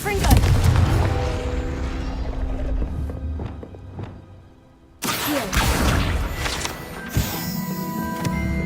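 Confringo blasting spell from Hogwarts Legacy going off as a sudden loud, broad explosion about midway, following a quieter dip and then leading into dense, rumbling game effects and music.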